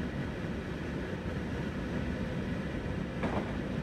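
A Class 91 InterCity 225 electric train running on the East Coast Main Line between St Neots and King's Cross in Train Simulator 2018, a steady loud rumble of wheels and motors that continues throughout with no talking.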